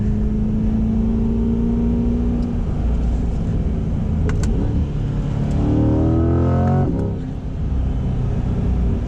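A 2021 Chevrolet C8 Corvette pulling hard under acceleration with short shifts, its engine drone rising in pitch through successive gears, loud and close from inside the cabin, with no one speaking.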